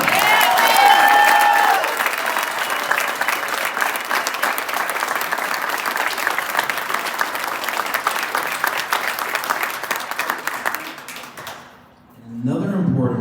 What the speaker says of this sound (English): Everybody please give a huge round of applause for Mia Hassan!